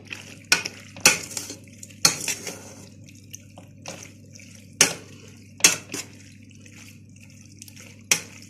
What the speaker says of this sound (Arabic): كده قلبت كده الصلصه والمكرونه مع بعض